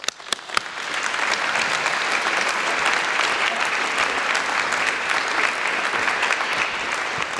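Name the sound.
audience applause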